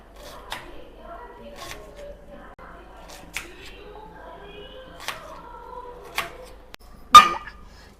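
A knife finely chops onions on a cutting surface, giving sparse, sharp taps at irregular intervals with the loudest near the end, under quiet talking.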